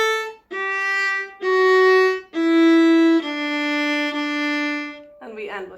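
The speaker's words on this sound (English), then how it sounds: "Then we do a backward scale from open A all the way to open D." Bowed string instrument playing a slow descending scale from open A down to open D, five sustained notes with short breaks between, clear and close, with a brief burst of voice at the end.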